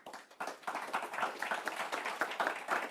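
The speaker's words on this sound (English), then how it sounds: "How about a round of applause for our panelists?" Audience claps for a panel at a MagRail levitating train announcement event, a modest, fairly quiet patter of hands with uneven rhythm, heard at some distance across the room.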